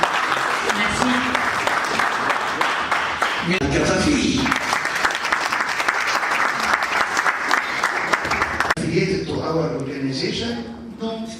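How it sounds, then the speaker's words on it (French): Audience applause fills a graduation ceremony hall in Lomé, Togo, sustained and dense for about eleven seconds and briefly swelling, while a speaker's voice comes through near the end. "Alors, nous pouvons les applaudir."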